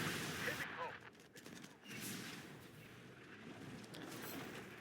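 Bursts of crackling gunfire and rattling automatic fire from the war strategy game Warpath, fairly quiet and blurred together, with a few sharper reports near the start.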